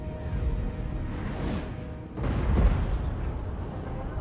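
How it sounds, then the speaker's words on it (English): Dwarf cannons firing a volley in a fantasy battle game, aimed at an enemy hell cannon: heavy booming blasts with a whooshing rush, one burst early and a louder second burst midway over ongoing battle noise. "This is the first volley from the cannons."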